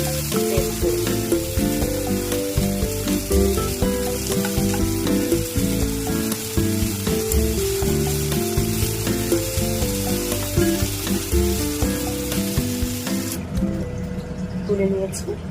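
Ripe tomatoes fry in hot oil and are stirred, giving a steady close sizzle with scraping and clinking of the spoon, while a voice talks over it.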